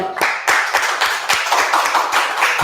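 A small audience claps in a steady, rhythmic unison beat, sharp close hand claps repeating roughly every quarter second, loud and without talk.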